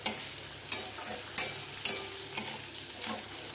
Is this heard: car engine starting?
no